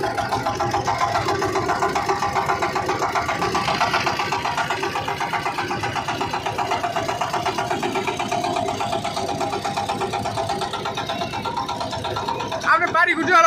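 A motorboat engine drones steadily on a river outing, a continuous mid-pitched chug that runs the whole time beneath people talking.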